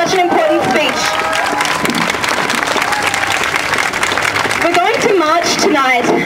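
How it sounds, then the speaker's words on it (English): Rally crowd in Brisbane applauding and cheering, loud and dense clapping mixed with whoops and shouted voices, with a voice or chant rising over the noise near the end. "Give her another round of applause."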